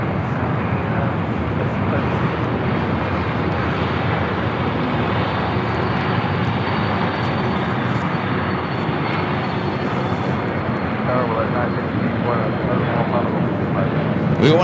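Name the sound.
Boeing 747-400 freighter aircraft, Coletta Air Flight 785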